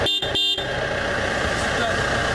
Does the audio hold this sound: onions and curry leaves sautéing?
no